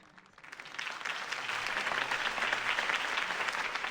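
A crowd bursts into applause after a mayoral campaign speech in the Batman Telltale game, starting soft and swelling within a second into steady, sustained clapping.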